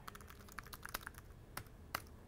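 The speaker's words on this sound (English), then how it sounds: "as you're typing, it is very fast and very responsive" Quick, light clicks from typing on a wireless keyboard patter in an uneven run of keystrokes, faint and close-up, with no voices.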